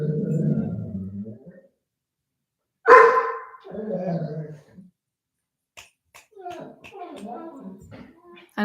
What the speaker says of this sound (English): I don't know if you can hear my dog